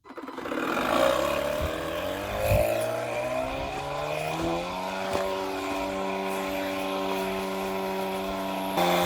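An Etenwolf Vortex S7 cordless tire inflator runs while inflating a Jeep tire, a loud, close compressor hum that starts abruptly, wavers slightly in pitch early on, then settles into a steady drone.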